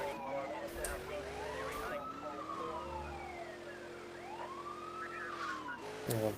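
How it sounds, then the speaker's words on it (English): Wailing police siren from Grand Theft Auto 2, its pitch sweeping up and down in repeated rising and falling cycles, loud and continuous over game engine noise for the whole stretch. "Turn off the sirens."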